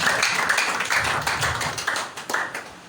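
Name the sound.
congregation clapping hands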